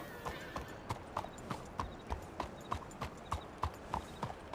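Steady clip-clop of horse hooves in a Western-style video game, a regular walking rhythm of distinct hoof strikes heard close and clear with no one talking over it.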